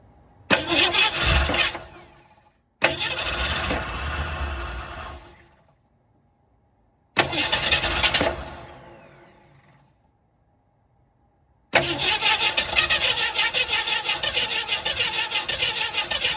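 A 1967 Ford Mustang, long unused, cranks and fires in repeated bursts: three loud start attempts separated by silences, then the engine catches and runs steadily up close.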